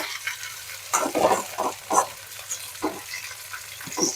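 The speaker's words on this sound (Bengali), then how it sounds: "এজন্য খুব ভালো করে মাছটাকে ভেজে নিতে হবে" Bata fish fries in a pan, with a low sizzling bed and a series of irregular crackling spurts and pops, close and moderately loud, with no voices.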